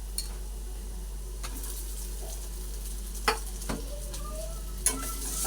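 Grated potato and spices stir-fried in a pan, with a steady low sizzle and several sharp scrapes and clinks of a spatula against the pan, heard up close with no talking.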